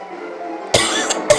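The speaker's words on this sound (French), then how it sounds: "Désolé si je tousse, je fais pas exprès" Two sharp, close coughs in quick succession, loud and abrupt, following a stretch of quiet background murmur, heard during play of the mobile game Godzilla Battle Line.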